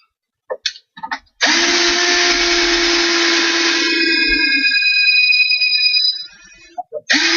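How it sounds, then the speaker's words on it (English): A loud power drill spins up and bores steadily into a knot in wood for several seconds, its whine shifting as it cuts, then winds down amid a few knocks. "Drilling into a knot."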